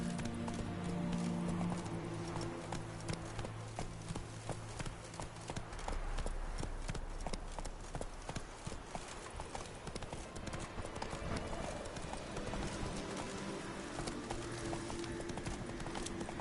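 Repeated hoofbeats of a horse galloping in The Witcher 3, a steady rapid clip-clop close by, with game music and ambience underneath and an occasional whinny.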